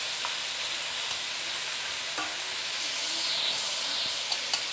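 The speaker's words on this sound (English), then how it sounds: "We want to actually char the shell." Shell-on prawns sizzle and char in a hot pan with a steady, bright hiss and occasional small pops and crackles throughout.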